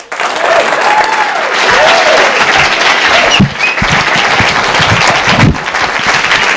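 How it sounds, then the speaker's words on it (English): Loud, sustained applause from a studio audience welcoming a stand-up comedian to the stage in 1986, a full roar of clapping throughout with a few whoops and cheers rising out of it. "Please, a nice round of applause for Mr."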